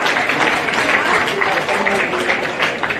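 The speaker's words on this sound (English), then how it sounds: "So please, a round of applause to Adamstown for their hospitality today." A crowd gathered for a 2019 Zone Premier League first-grade club presentation gives the host club Adamstown a continuous round of applause. The clapping is full and close and fills the whole moment.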